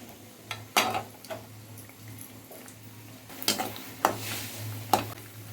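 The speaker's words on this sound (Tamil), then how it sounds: "இப்போ நம்ம எண்ணெயில் பொறிச்சு எடுத்துடலாம்" Onion rice vathal fries in hot oil with a low steady sizzle, punctuated by sharp clinks and scrapes of a utensil against the pan, close and fairly quiet, no talking.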